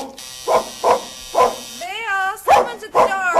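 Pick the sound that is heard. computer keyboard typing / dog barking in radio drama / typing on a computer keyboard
dog barking in radio drama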